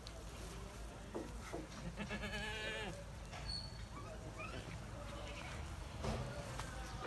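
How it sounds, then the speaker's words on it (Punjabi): Several goats bleat intermittently on a farm where they have been brought and tethered, with faint rustling and background noise throughout. "ਲਓ ਜੀ ਬੱਕਰੀਆਂ ਆ ਕੇ ਤੇ ਬੰਨ ਛੱਡੀਆਂ ਦੂਰ।"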